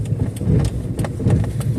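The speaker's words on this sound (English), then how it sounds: "Riding on the rim." A car driving on a bare wheel rim late at night, a steady close rumbling engine and road drone with rhythmic scraping pulses throughout.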